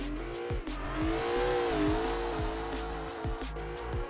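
Engine-swapped BMW E36 drift car in the video game CarX Drift Racing Online during a drift qualifying run, a loud sustained engine drone rising and falling with repeated throttle shifts and tire squeal.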